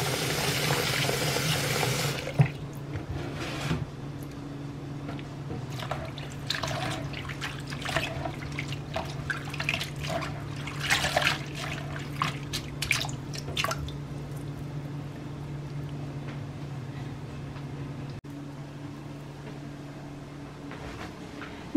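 Purslane leaves being washed in water, with a short rush of running tap water at the start followed by soft drips, splashes and squishy handling of wet leaves, close and quiet.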